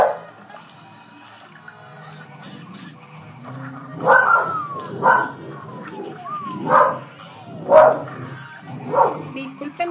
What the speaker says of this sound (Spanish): Disculpen, porfa, a mi perrita. Es muy brava.